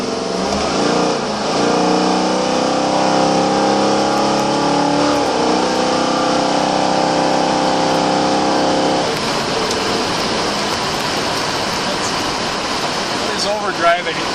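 Car with a Monster transmission accelerating through its gears, a loud steady engine drone that climbs in pitch, drops as a shift comes through, then settles into cruising road noise, heard from inside the cabin.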